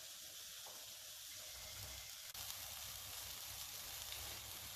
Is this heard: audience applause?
no